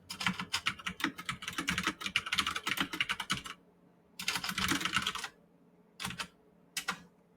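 Fast typing on a computer keyboard, heard close and clear as a long continuous run of key clicks. A pause follows, then another burst and a few short final taps.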